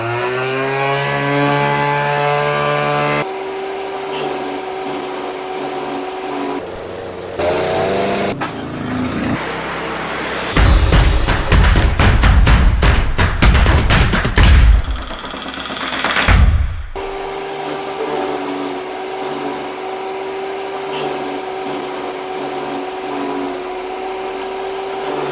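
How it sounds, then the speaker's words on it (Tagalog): A grass cutter with a blower attachment drones steadily, then revs into a louder, rougher whine for a few seconds before settling back to a steady motorized hum. "Isa pang interesting po sa grass cutter na ito meron na rin po siyang blower"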